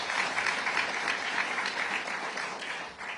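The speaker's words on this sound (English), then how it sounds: "I didn't even have to say please clap for that" An audience at a political talk on the Republican Party's future bursts into sustained applause, a dense wash of many hands clapping that holds steady and then tapers off slightly at the end.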